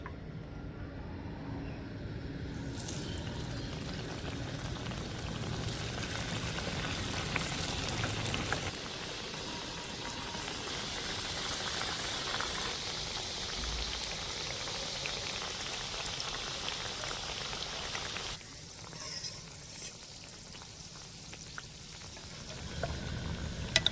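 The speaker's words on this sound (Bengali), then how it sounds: "পিঠিগুলো ভাজার জন্য আমি এখানে কিছুটা তেল গরম করে নিয়েছি এবার আমি পিঠিগুলো দিয়ে দিচ্ছি" Dalia pakon pitha fry in hot oil, giving a dense, continuous crackling sizzle that stays close and fairly loud throughout, easing a little toward the end, with no talking.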